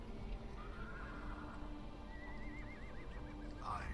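Horses neigh and whinny in the Battle for Middle Earth strategy game, their wavering calls rising over a steady din of game background noise, with a sharper whinny near the end.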